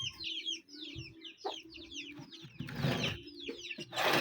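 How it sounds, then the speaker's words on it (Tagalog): Pet chickens cluck close by in a quick series of short repeated calls, with a burst of louder scratchy noise partway through. "Ang mga alagang mga manok."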